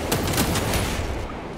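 Gunfire in the video game Warhammer 40K Space Marine 2, a dense, rapid burst of loud shots that trails off into a rumbling tail.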